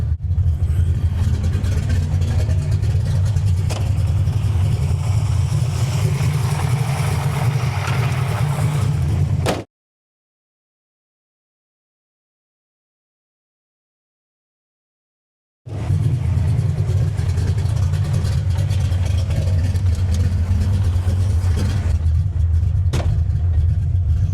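A Ford-engined Calypso car rumbles deep and steady close by, falls completely silent for several seconds, then resumes its throaty idle.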